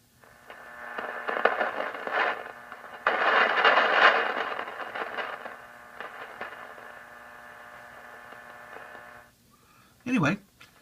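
A mid-1970s Radio Shack DX160 radio receiver gives off crackling lightning static in rough bursts over a constant hum. The noise swells and fades, and a sharp click near the end cuts it off.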